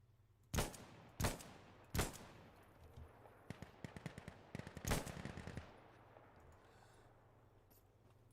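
Gunfire in Insurgency Sandstorm: three loud single shots spaced about a second apart, then a rapid burst of automatic fire, then a few more sharp shots, all fading into quiet game ambience.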